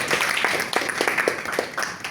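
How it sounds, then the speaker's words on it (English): Scattered applause from an audience at a Toastmasters club meeting, fairly thin clapping with a few sharp individual claps spread over about two seconds, moderately loud throughout. "let's give him a big round of applause"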